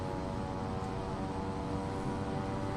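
A general aviation aircraft engine in Microsoft Flight Simulator drones steadily while taxiing, a constant humming tone with a rough low rumble at moderate volume.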